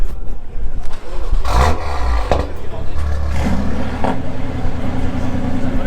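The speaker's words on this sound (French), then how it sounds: "Ils vont démarrer la M2 là, écoute ça, avec la ligne Armitrix." A BMW M2 fitted with an Armytrix exhaust fires up and revs at a cars and coffee meet, with loud deep bursts and a throaty rising roar, and crowd noise and voices around it.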